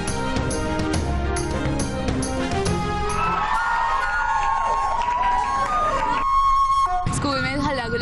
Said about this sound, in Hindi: स्कूल में हल्ला गुला बहुत ज्यादा की है